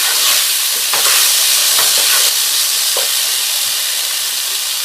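Chopped tomatoes and spices cook in a pan for a vegetable curry, with a steady close sizzle and hiss and a few soft scraping stirs running throughout, no voices.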